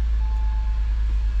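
A Porsche Carrera 4 Cabriolet engine idles with a steady low rumble and a faint high whine, constant throughout with no voices.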